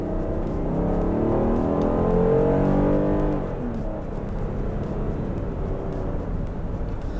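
The V6 engine of a 2022 Kia Carnival minivan accelerates hard, with a rising whir that builds for about three seconds, then settles into a steady road drone. Moderately loud and heard from inside the cabin.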